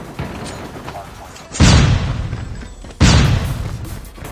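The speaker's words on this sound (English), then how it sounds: "Flashbang." Two heavy flashbang grenade blasts in a first-person shooter game, about one and a half seconds apart, each a sudden loud broadband burst that decays slowly. Game voice callouts and background noise sit underneath.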